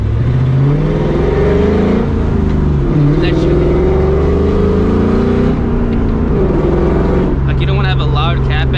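A 2004 Ford Mustang GT engine with a Borla ATAK cat-back exhaust hums steadily at low revs from inside the cabin while driving, with a person talking over it.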